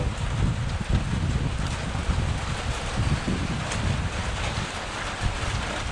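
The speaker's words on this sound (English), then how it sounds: "the rain's coming down pretty good" Steady rain coming down hard at a shelter on the Appalachian Trail, a dense continuous hiss with some wind-like rumble throughout and no talk.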